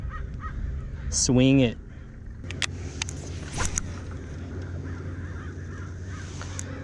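A bird gives one loud, harsh call close to a kayak on the water, followed by faint knocks and a low background hum, with someone speaking briefly.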